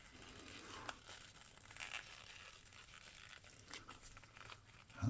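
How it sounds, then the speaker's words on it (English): Thin silicone being peeled back by hand, a faint, close crinkly crackle with small ticks, ending in a louder brief rustle. "this is thin enough silicone to where I can just peel it back like this without any problem"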